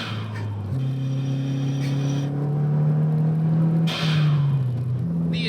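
An MK4 Volkswagen Golf GTI accelerates through the gears with a close, steady engine drone that climbs and drops at each shift, broken by brief bursts of turbo flutter as the throttle lifts.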